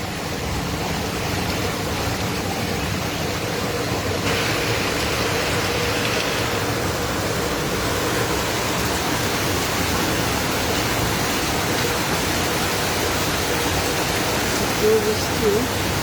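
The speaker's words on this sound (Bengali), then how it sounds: "প্রচন্ড বৃষ্টি হচ্ছে।" Heavy midday downpour pounds steadily for the whole stretch, a dense, unbroken roar of rain close by with no pauses and a thin high hiss riding on top.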